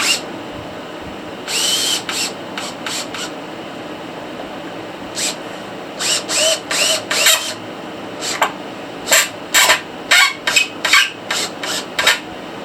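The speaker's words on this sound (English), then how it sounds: "Then just screw them in until they touch the rock." Screws driven into hard fossil rock during restoration of a large Rhinobatus fossil, heard as a series of short, close rasping grinding bursts in irregular clusters, with pauses between, and no talking.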